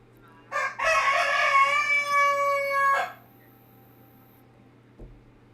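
A single loud rooster crow rings out up close, a long sustained cock-a-doodle-doo of about two and a half seconds, followed by quiet and a faint thump.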